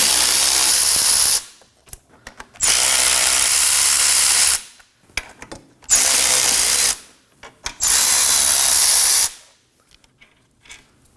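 A power tool removes the rear hub bolts on a 2016-2020 Kia Sorento in four loud, sustained bursts of whirring and rattling, with short quiet gaps and clicks between them.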